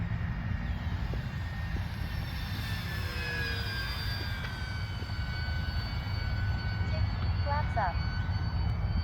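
Eflite P51 Mustang 1.2 m RC model plane passing down the runway at a field, its whining motor steady and fairly loud, with a rising and falling pitch as it goes by.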